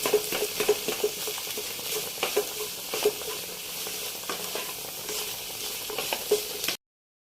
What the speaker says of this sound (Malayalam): ഇനി ഇതിലേക്ക് നമ്മൾ വേവിച്ച് വെച്ചിരിക്കുന്ന കപ്പ ഇട്ടങ്ങ് ഇളക്കിയെടുക്കുവാണേ.